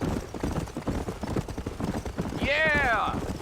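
Horse hooves clip-clop at a steady trot in the Western video game Red Dead Redemption, running under continuous character dialogue, with a brief whistling or whinny-like cry rising near the end.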